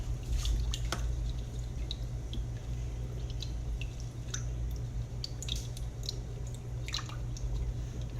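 Bread dough ingredients being mixed with water, giving soft wet squishing and dripping sounds over a steady low hum, continuous and close.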